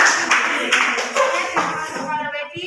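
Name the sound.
audience clapping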